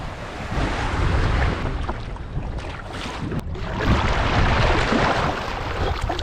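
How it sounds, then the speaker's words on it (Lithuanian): Strong wind gusts buffet the microphone by the Adriatic Sea at Rimini, roaring and rumbling continuously with the wash of waves underneath. "Vėjas pučia, biški šaltai kažkaip viskas atrodo"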